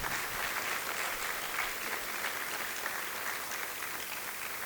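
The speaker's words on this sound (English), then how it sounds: "I think this itself needs a big round of applause." Sustained audience applause at a taxes and compliance conference honouring the first Emirati to earn a PhD in strategic and innovation management, a dense even roar of clapping held steady throughout, heard from across a large hall.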